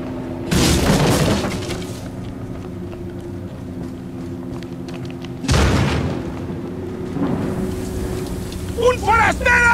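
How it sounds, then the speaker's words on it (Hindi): Two loud, sharp gunshot blasts in the Resident Evil 4 game crack out several seconds apart over a rumbling backdrop, with speech and shouts around them. "इसे गोली मारो"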